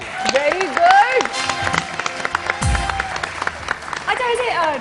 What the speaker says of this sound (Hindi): सब लोग एक तो बहुत जबरदस्त तालियां